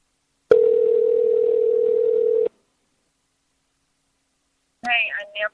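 A steady telephone dial tone hums for about two seconds and then cuts off abruptly, followed by silence and a short burst of a speaking voice near the end.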